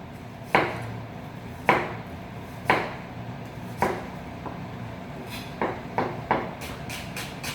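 A knife chops red onion on a board in a kitchen. Faint, sharp knocks land about once a second, some close together near the end, over a quiet room hum with no talking.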